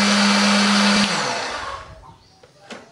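A blender whirs loudly as it grinds curly red chili, turmeric, ginger and garlic with a little water, then the motor winds down after about a second, leaving fading noise and a couple of faint clicks.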